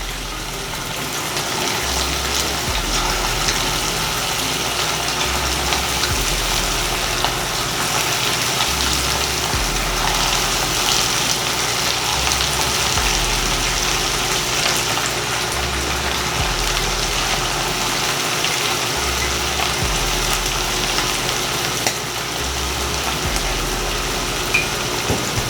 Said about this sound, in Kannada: ನಂತರ ಎಣ್ಣೆಯಲ್ಲಿ ಕರಿಯೋಣ.